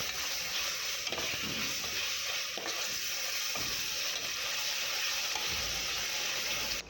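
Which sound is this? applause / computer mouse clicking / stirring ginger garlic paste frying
stirring ginger garlic paste frying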